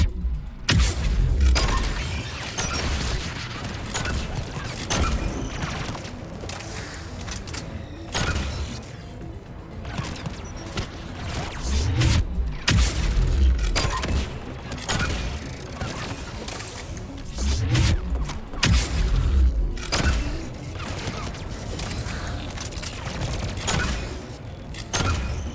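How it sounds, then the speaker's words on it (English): Turrets firing in Mass Effect Legendary Edition, a sustained loud stretch of rapid gunfire bursts with mechanical clanks and heavy thuds running throughout. "Turrets!"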